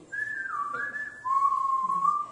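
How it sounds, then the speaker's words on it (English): A person whistles with the mouth as a signal near a Maasai home, giving two clear sustained tones, a higher note sliding down and then a steadier lower one, loud and close. "when you make that whistle, the house know that everything is good because you are around"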